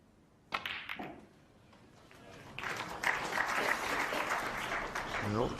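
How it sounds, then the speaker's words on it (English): Audience applause rises at a snooker quarter-final between Ding and O'Sullivan, building from a quiet start into a broad, sustained clapping that runs to the end, with a brief sharp knock near the beginning. "Well, get some applause"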